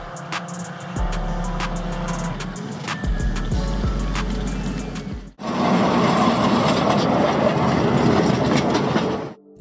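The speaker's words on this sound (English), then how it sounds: "A wood-fired steam engine, based on 19th century trains, makes about 5 horsepower, can pull several cars" A backyard wood-fired steam train of about 5 horsepower rumbles along loudly with rhythmic clicking on the rails, deep low chugging, then a dense roaring wash of mechanical noise.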